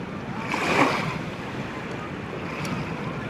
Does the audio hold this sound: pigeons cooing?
no